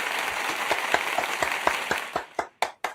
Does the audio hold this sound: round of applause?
yes